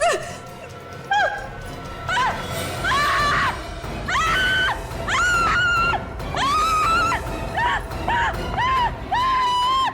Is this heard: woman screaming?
yes